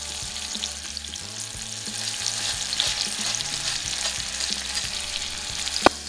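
Alaskan salmon crisping in a hot pan gives a close, steady sizzle and crackle with a low background hum, ending with a sharp scrape or clatter.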